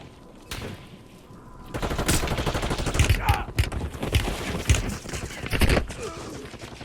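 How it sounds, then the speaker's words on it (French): Gunfire in Call of Duty: Warzone, with dense bursts of rapid shots and clattering impacts swelling into a continuous barrage that stays loud and close for several seconds. "J'essuie des tirs."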